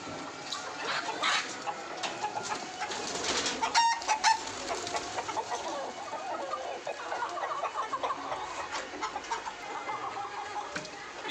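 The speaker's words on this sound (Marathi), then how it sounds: "आपल्याला क्रॉस इन्क्युबेटरद्वारे तयार केलेले गावरान पक्षी" Free-range desi village chickens, incubator-hatched crossbreds on a poultry farm, cluck and call close by in an overlapping flock chorus with a few sharper calls, steady throughout with no talking.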